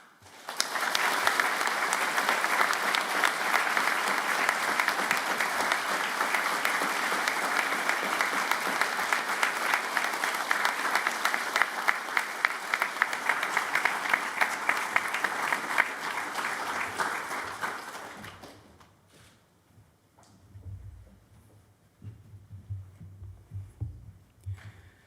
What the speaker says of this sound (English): please join me in a round of applause to show our gratitude and appreciation for the incredible staff